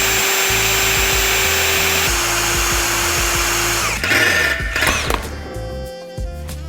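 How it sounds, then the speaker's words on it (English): A power drill bores holes in a metal snowmobile exhaust plate, giving a steady, close, loud whine for about four seconds before the pitch shifts and the motor winds down with clattering. "that's where I will be drilling holes where the smaller hardware will go up"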